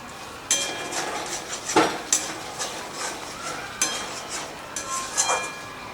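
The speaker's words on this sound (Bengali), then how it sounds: "পটলগুলোকে দিয়ে একটু মশলার সাথে কষিয়ে নেব।" Fried pointed gourd (patol) sautéed in spice paste for a doi patol, with scattered scraping and clinking stirs of a spatula against the pan over a low sizzle, a handful of distinct strokes, close and unvoiced.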